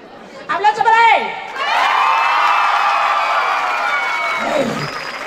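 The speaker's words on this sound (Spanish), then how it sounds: "Aplauso fuerte para él." A festival stage crowd at the Tarima de la Alegría 2019 patronal fiestas breaks into sustained cheering and applause after a brief raised voice, the broad roar holding steady for several seconds before fading slightly.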